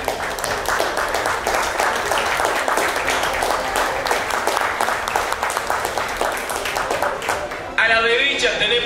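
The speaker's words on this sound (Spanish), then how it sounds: "Un aplauso para Chacho también, por favor." Applause from an awards-night audience, a dense steady patter of many hands lasting throughout, with a voice speaking over it near the end.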